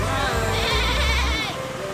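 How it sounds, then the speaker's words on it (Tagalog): A goat bleats loudly nearby in a wavering, drawn-out cry, heard alone with faint background noise. "Tignan mo yung kambing."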